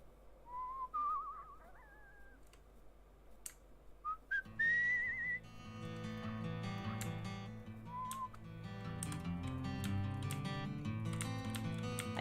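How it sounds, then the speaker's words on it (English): A character in the video game Where Water Tastes Like Wine whistles a few short, wavering melodic phrases, first alone over quiet ambience and then over a fuller, sustained musical backing. "let's whistle"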